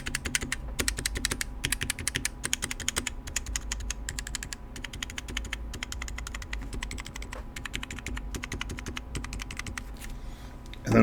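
Typing on an HHKB keyboard fitted with non-lubed Dynacap sliders: a steady, brisk run of close, crisp keystroke clacks that carries on evenly for about ten seconds, heard alone with no talking.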